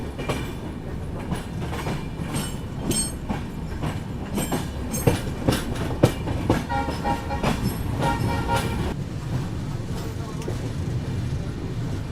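Train rolling toward New Tinsukia Junction, a steady rumble of wheels on rails with rattling carriage noise and a few sharp clanks, heard from inside, with some voices in the background.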